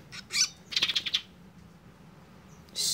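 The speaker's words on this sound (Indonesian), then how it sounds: "Bunyi nih burungnya." A newly unboxed songbird gives a few short, bright chirps, one quick burst near the start, then a rapid cluster of several notes, and another call at the end, close and fairly clear over a quiet room.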